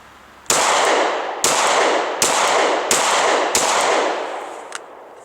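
Five sharp, loud pistol shots from a Glock 23 Gen 4 fitted with a Trijicon RMR red dot sight ring out at a steady pace about a second apart, each cracking hard and then decaying in an echoing tail.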